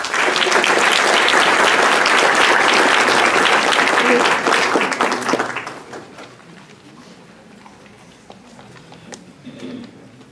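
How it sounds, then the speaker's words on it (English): Audience at a city council meeting applauding loudly for several seconds, then the clapping fades into scattered claps and room noise. "Let's give them a round of applause."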